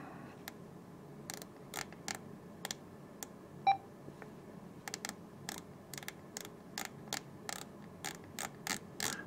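Tuning dial knob on a D74 radio clicked through its detents, producing a series of small sharp ticks, some isolated and some in quick runs, faint and close with no talk.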